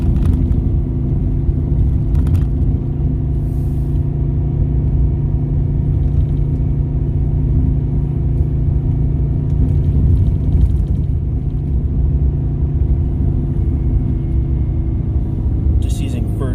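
A car creeps along snowy Beaver Creek Road in first gear, its engine a low constant rumble close by, with a couple of brief clicks or creaks over the drone.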